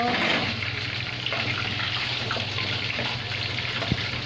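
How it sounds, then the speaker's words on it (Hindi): Water runs from a tap while a container fills, a steady hissing splash held at a low, even level throughout, with no talking. "और मैं भर रही हूँ यहाँ पर पानी"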